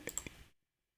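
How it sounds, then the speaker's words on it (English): Three quick clicks of typing on a computer keyboard, close and crisp, then silence. "I'm just sitting here typing."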